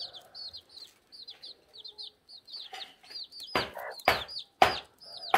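A brooding hen that hatched chicks in a chick pen clucks repeatedly in soft, rapid bursts, joined by louder, sharper calls toward the end, close by.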